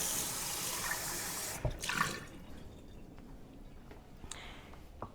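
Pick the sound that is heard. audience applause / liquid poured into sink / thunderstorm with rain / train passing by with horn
liquid poured into sink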